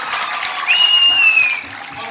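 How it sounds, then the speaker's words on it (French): Audience applause at a regional youth junior-enterprise competition in Tangier: a short, moderate wash of clapping from a crowd in a hall, with a thin electronic whine from the sound system cutting across the middle. "Applaudissez s'il vous plaît."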